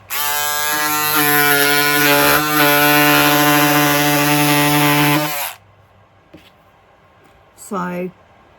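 Electric scissors fitted with a fabric blade buzz loudly and steadily for about five seconds while cutting corduroy, then stop, followed by a brief second short burst.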